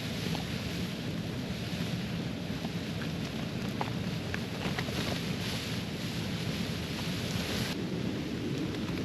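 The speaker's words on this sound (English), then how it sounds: "Loud rain out there." Heavy rain pounding steadily on a tent during a wet, windy wild camp, with low rumbling thunder and wind buffeting underneath, a constant dense roar with no talking.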